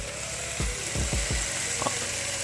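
Meat searing in a hot pan for birria tacos: a low, even sizzle with a few quick scraping knocks as pieces are moved, heard up close with no talking.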